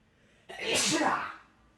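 A single loud, close sneeze bursts out suddenly and fades after about a second, with quiet background before and after.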